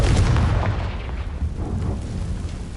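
A Confringo spell blast in the Hogwarts game: one loud, close, booming explosion that rumbles and fades over a couple of seconds.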